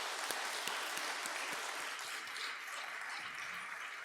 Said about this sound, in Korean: 우리 한번 격려의 박수 한번 합시다.